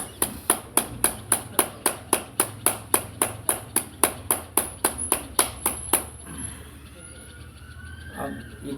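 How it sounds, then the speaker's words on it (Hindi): Sharp, evenly spaced hand claps done as a yoga exercise, about twenty in a steady brisk rhythm, close and loud, then stopping into quieter room sound. "ताली बजाने से हथेलियों के जो पॉइंट होते हैं वो सारे पॉइंट से प्रेस हो जाते हैं"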